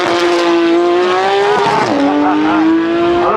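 A Ferrari SF90 supercar makes a hard launch at a supercar show, its engine roaring loud and close with a rising whine that dips briefly at a gear change and then climbs again, edged with tyre squeal.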